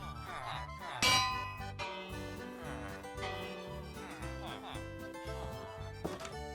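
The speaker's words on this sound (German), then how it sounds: "Ich habe eure Glocke zerstört." A bell breaks with a single loud metallic clang, ringing briefly over continuous cheerful festival music at a May Day celebration.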